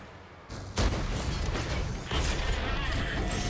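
Tank cannon shells slam into the player's IS-7 in World of Tanks, two heavy booming impacts roughly a second apart, each followed by rumbling debris and mechanical clatter, loud and close.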